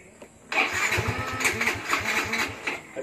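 A Yamaha Mio i125 scooter engine, after its check-engine error 37 has been cleared, cranks briefly and catches, settling into a close, steady, rapid idle putter.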